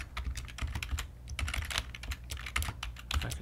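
Fast, steady typing on a computer keyboard while entering R code, close and continuous clicking of keys with small bursts and no talk.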